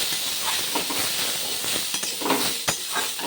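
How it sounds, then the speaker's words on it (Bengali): Young hog plums (amra) stirred in a pan with under a spoonful of oil, giving a steady loud sizzle and hiss broken by a few scraping stirring sounds. "দিয়ে দিলাম আমরাগুলো একটু নেড়ে চেড়ে নেব"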